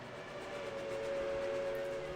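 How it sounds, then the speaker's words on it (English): Steady, sustained tone of a steam locomotive whistle in Reverse: 1999, a dusky scene with black smoke rising, heard at moderate level over a low rumbling background, with no voices. "A thick black column of smoke cuts into the dusky sky, rising along with a loud whistle. It's the train!"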